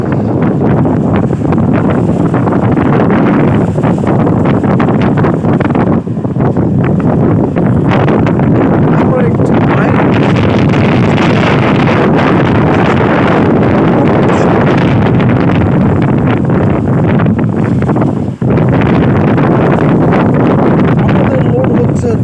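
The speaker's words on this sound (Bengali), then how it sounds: "সমুদ্রের যে গর্জন যে বাতাস তা যদি আপনাকে একটু শোনায়" Loud, continuous roar of sea wind and surf buffeting the microphone at the coast, a steady broadband rush with gusting swells throughout and brief dips, no voices standing out.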